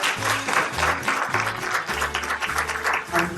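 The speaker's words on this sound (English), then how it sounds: "give them another round of applause" A standing crowd at an event honoring seniors and veterans gives a round of applause, with steady clapping over a pulsing low musical beat that continues throughout.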